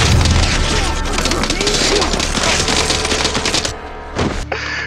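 Machine gun fire in the video game Hitman: Absolution, a loud, dense stream of rapid shots and booming bursts that runs for several seconds before cutting off into a couple of shorter trailing bursts.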